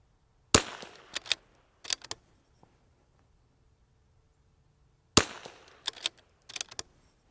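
Rifle shots fired at a target on a range: two loud, sharp reports several seconds apart, each followed by a short run of fainter clicks and clacks, with quiet between.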